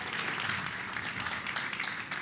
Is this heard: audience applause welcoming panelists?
yes